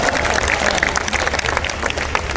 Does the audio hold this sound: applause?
yes